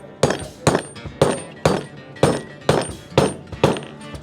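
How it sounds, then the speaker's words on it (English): Hammering: eight sharp, evenly spaced strikes about half a second apart, loud and close, driving something down with no talk over them. "How gently am I hammering?"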